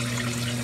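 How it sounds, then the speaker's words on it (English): Water splashing into a saltwater aquarium sump, a steady close rush of falling water with a low constant hum underneath, brief and unbroken. "water hitting the air creates oxygenation and a little bit of splashing, these bubbles, oxygenation"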